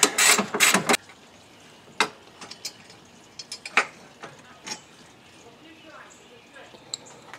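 A hand ratchet loosens the 10 mm battery hold-down bolt on a Toyota Camry 3.5 V6, with a quick run of loud clicks at first, then scattered softer clicks and metallic taps, close by and without talking.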